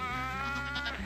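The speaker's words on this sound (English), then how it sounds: "There's some goats here." Goats on a dairy farm bleat in a long, close, wavering cry that fills the moment, with further voices overlapping toward the end.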